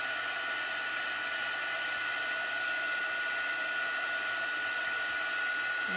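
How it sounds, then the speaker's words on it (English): Heat gun melting embossing powder during heat embossing, a constant loud whooshing blower hum with a steady whine, unbroken from start to finish. "Heat embossing really is the coolest thing ever."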